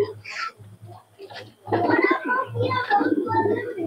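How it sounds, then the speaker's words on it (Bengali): A female Kaldoma pigeon coos in soft, low, repeated bursts close by, while a person talks over much of it. "এই হচ্ছে মাদি কবুতরটি"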